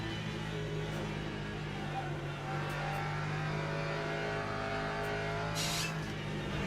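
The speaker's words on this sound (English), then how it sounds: "There's a faster car approaching." Race car engines in a racing video game with hypercars on track, a steady loud drone of revving motors that holds throughout with no clear single pass-by.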